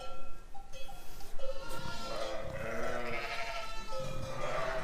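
A ewe carrying two lambs bleats several times in a wavering, nasal call, close and fairly loud, with quieter rustling and farm noise around it and no speech.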